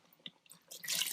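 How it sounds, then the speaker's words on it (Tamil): Water poured into a pot of okra sambar with dal, a brief splashing rush that builds toward the end after a few faint kitchen clinks, close and moderately loud. "பருப்பு இதில் ஊற்றி நம்ம மிக்ஸ் பண்ணதும் கொஞ்சம் தண்ணி கூட ஊற்றலாம்."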